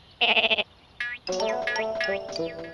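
Cartoon sheep in an animated Bible story about young David, bleating twice: a short wavering bleat, then after a pause a longer, drawn-out trembling bleat, close and clear.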